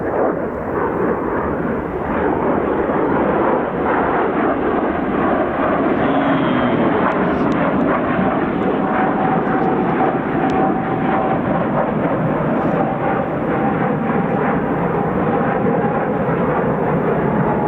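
F-35 fighter jets flying in to land at RAF Marham: a loud, continuous, broad jet engine roar that stays steady throughout, with no talk.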